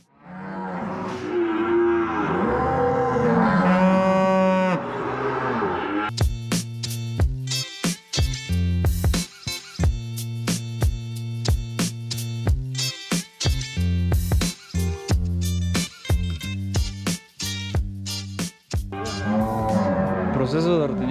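Cattle and a calf on a family ranch at milking time: a cow moos loudly and at length, then repeated short, close calls and rhythmic clatter follow, with voices talking at times.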